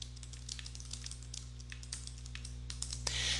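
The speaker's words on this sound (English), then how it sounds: "Now if I start to type something" Fingers type on a computer keyboard in Word 2013, a quick, uneven run of light key clicks over a low steady electrical hum, with a soft rustle at the end. No voice is heard.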